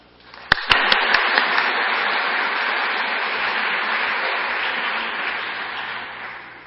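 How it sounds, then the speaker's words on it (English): An audience applauds to welcome a lecturer at an engineering congress lecture, opening with a few sharp individual claps before swelling into steady, dense clapping that holds throughout and fades slightly at the end. "now, please welcome Professor Praly with applause"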